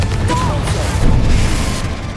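A Confringo blasting curse going off in the Hogwarts Legacy video game, a loud close boom with a crackling burst and a short rumbling tail.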